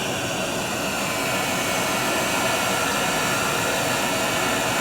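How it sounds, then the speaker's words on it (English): A loud, steady broadband roar of a vacuum runs without pause, a constant whooshing hiss with no speech over it. "let me turn the vacuum on."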